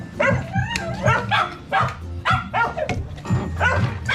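Several hungry dogs bark and yip in quick, repeated bursts close by, a continuous excited chorus with some whimpering between barks.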